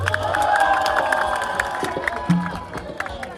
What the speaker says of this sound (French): Vous, applaudissez pour vous-même d'abord